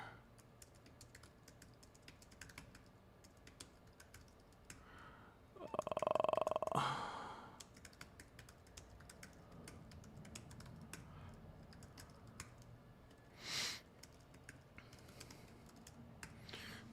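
Quick computer keyboard typing clicks run steadily and fairly faint throughout, broken by a brief louder burst of noise near the middle and another short blip toward the end.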